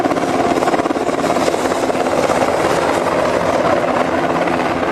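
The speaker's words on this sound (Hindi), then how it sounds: "हेलीपैड पर उतरना था इस हेलीकॉप्टर को, हेलीपैड पर नहीं उतर पाया और घूम रहा है" Helicopter spinning out of control above the Kedarnath helipad, its rotor a loud, continuous close chopping roar without pause.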